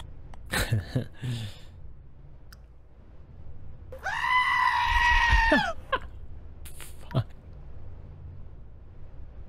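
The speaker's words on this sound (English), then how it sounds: "Oh, Harley, thanks for playing the goat scream" A goat scream sound effect plays loudly for about two seconds, a harsh, wavering bleat-like shriek, with brief bursts of speech and other sounds before and after it.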